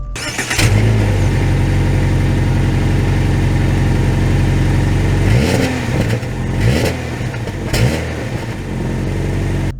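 A 2023 Subaru Impreza engine runs loud and close, holding a steady idle before several quick rev blips rise and fall near the end, with no talking.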